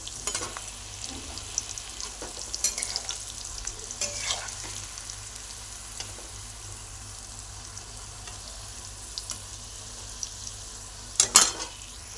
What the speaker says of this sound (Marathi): आता जे बोंबील आपण स्वच्छ धुवून घेतलेले आहेत ते बारीक गॅसवरती चांगले 4 ते 5 मिनिटं लाल होईपर्यंत भाजून घ्यायचे